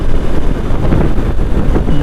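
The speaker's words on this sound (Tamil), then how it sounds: "ஆனால் இந்த இடத்துல மட்டும் பயங்கரமாக காற்றடிக்குது" Strong wind buffets the microphone during a night ride on a Honda CB200X motorcycle, a loud, steady broadband roar with rumbling gusts and no talk.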